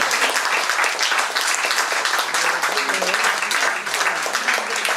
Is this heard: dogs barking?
no